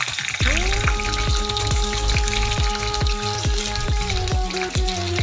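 Tomato and garlic sizzling in a hot pan for a radish chutney, a steady frying hiss under a repeating rhythmic knocking, about a dozen evenly spaced thuds with a sustained tonal hum throughout.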